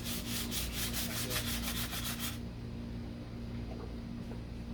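Hand sanding on the deck lid of a 1969 Corvette C3, a close, soft rhythmic rubbing in quick strokes for about two seconds, then fading to a quieter, steadier scrape.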